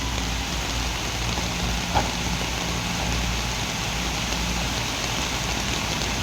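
Heavy rain pours steadily over a construction site with excavators, a dense, even wash of noise with no break, close and continuous throughout.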